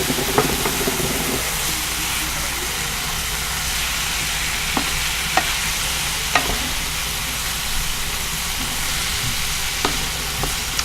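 Sausage sizzles steadily in a frying pan for a keto sausage and broccoli rabe dish, a constant close crackling hiss with a few sharp pops and utensil clicks scattered throughout, no voices.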